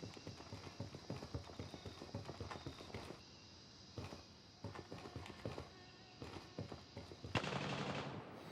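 Rapid bursts of distant gunfire crackle through a firefight in the military shooter Gray Zone Warfare, a steady run of sharp shots over several seconds ending in a louder, denser burst, with no talking.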